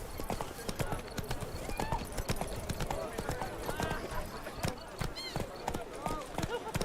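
Roach, the horse in The Witcher video game, gallops with steady, rapid clip-clop hoofbeats that stay prominent throughout, mixed with game music and a voice talking over the action.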